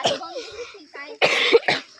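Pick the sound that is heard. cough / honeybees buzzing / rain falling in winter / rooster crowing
cough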